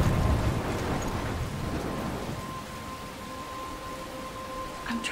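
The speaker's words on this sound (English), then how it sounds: "I'm trapped in a storm?" Steady rain with a low thunder rumble at the start, a constant wash of storm noise from the video game Life is Strange, no voices.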